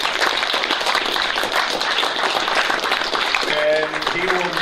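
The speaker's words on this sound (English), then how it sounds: "How about one big round of applause for Charlie?" Audience applause for a guest author after an evening book talk at a space gallery event, a dense wash of clapping held steady throughout, with people talking near the end.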